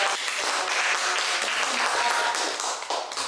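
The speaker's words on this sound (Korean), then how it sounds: "큰 박수 부탁드리겠습니다" An audience at a lecture breaks into applause as the speaker is introduced, producing many overlapping hand claps that form a continuous, moderately loud patter from start to finish with no voices over it.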